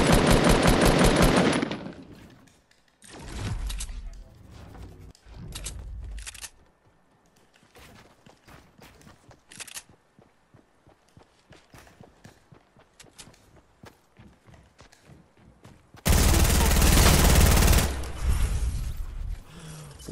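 Compact SMG bursts in Fortnite gameplay come as loud rapid volleys at the start and end, with quieter stretches of footsteps and mechanical clicks between them and no speech.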